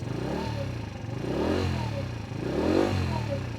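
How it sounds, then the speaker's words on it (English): A Lexmoto Echo 50 moped engine idles steadily with its battery lead disconnected, a small buzzing putter that swells gently twice, heard up close with no talking. "If we disconnect the lead, the bike still runs."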